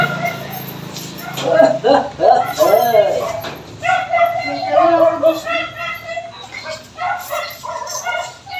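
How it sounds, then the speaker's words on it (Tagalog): A dog barks and yips in short, uneven bursts close by, mixed with whimpering sounds and people talking over it. "Ang ingay-ingay ng aso."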